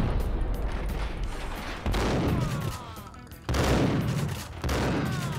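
Gunfire from the Max Payne video game: loud bursts of shots, with sharp volleys breaking out near two, three and a half, and almost five seconds over a dense, steady roar of game action.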